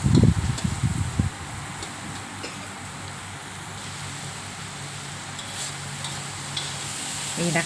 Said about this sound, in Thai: หมูสุกลูกชิ้นสุก เราก็ผัดให้เข้ากัน